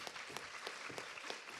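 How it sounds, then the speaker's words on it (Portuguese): Audience applause for a woman being introduced at a Brazilian science talk, a short, faint patter of clapping from a small crowd with distinct individual claps, no voices over it. "Palmas para ela."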